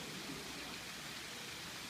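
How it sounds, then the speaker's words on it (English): Steady, even hiss of rain falling in Playa del Carmen, a soft continuous wash of noise with no voices or distinct drops standing out. "It's raining."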